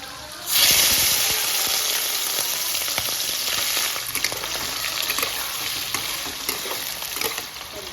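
Prawns hit hot oil in a second wok for a Bengali stuffed pointed-gourd dish, bursting into a loud, sudden sizzle that settles into steady crackling with occasional sharp pops and stirring clicks.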